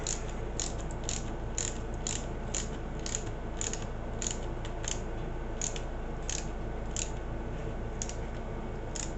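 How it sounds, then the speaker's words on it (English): Small screws are driven into a Tamiya Holiday Buggy RC kit, giving a steady series of close, rapid ratcheting clicks that repeat evenly throughout with no talking. "screw it right on in there."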